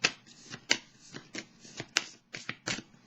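Tarot-style cards shuffled for a card reading, heard as a series of sharp riffling bursts and soft slaps in an irregular rhythm, close and alone without speech.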